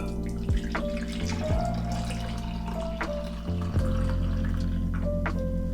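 Jamaican sorrel drink poured steadily into a glass, a continuous liquid splash and trickle with a few brief drips, close and moderately quiet with no talking.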